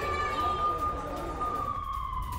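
Emergency siren wailing over Tel Aviv during the Israel-Hamas war, a steady loud tone sliding slightly downward across the clip against a rumbling street background.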